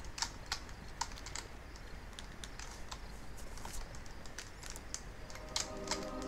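Quick, light keystrokes patter on a computer keyboard in irregular bursts, close and fairly quiet, over a constant background hum.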